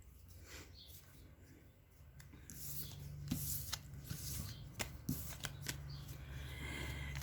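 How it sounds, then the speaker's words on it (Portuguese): Tarot cards shuffled and drawn by hand, a steady papery rustle and riffle with scattered sharp card slaps, close and alone over a faint low hum. "Vamos tirar as cartas e analisar"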